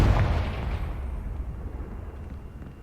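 A Confringo spell explosion in Hogwarts Legacy, a loud booming blast that hits at once and rumbles away over a few seconds.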